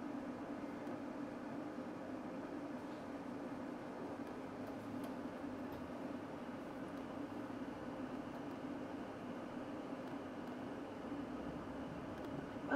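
Inside a West Midlands Railway Class 730 train while running, a faint steady low hum and rumble of motors and wheels carries on evenly throughout, with no voices.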